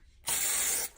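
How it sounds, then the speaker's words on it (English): A short, loud hiss of cooking oil sprayed from a can onto the back of a measuring cup, close by and lasting just over half a second. "You're going to spray oil"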